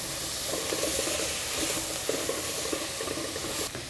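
Kale seasoned with Italian seasoning, salt and pepper is mixed in a pan, giving a continuous sizzle with soft, repeated stirring scrapes at close range.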